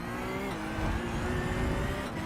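Porsche Cup race cars in a sim racing video game, engines droning and revving steadily throughout, a dense continuous roar with no voices.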